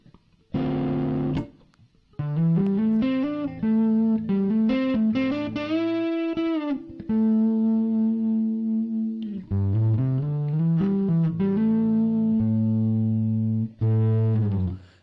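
Electric guitar played through a basic amp simulator in Ableton Live during a music-making session, distorted sustained chords and single notes ringing with short gaps between phrases, close and loud.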